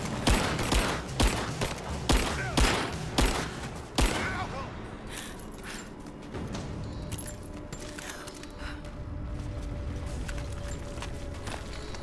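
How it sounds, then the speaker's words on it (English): Rapid bursts of gunfire crack out close and loud in Rise of the Tomb Raider, a fast volley of sharp shots over the first few seconds, followed by a lower rumbling background of distant combat noise. "I'm under fire."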